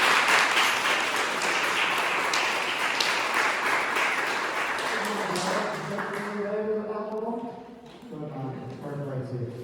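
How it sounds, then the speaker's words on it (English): A round of applause at a 6th class school graduation ceremony, a dense crowd clapping that gradually thins and fades as a voice begins speaking over the tail end. "Give me a little round of applause."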